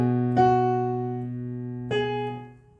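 Soft piano plays part 2 of the chorus of a song, two gentle chords struck a second and a half apart and left to ring and fade, with no voices.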